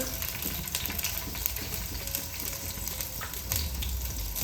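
Green chillies and a large piece of ginger cut lengthwise frying in a pan for an old-style fish curry, giving a steady close sizzle throughout with no voices.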